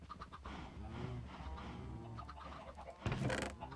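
Several Minecraft chickens cluck softly and repeatedly at close range, followed by a louder burst of noise near the end.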